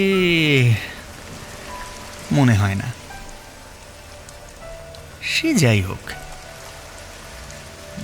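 Heavy rain falls at night as a steady, even hiss beneath a voice that speaks in short phrases.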